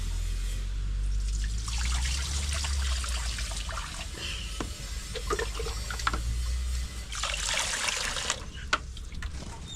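Rice washed by hand in water, with trickling, splashing and light dripping, close and moderately loud, with a steadier flow of water near the end.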